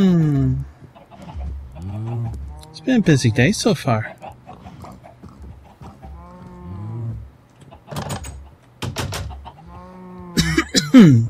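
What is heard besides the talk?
chickens clucking in Minecraft video game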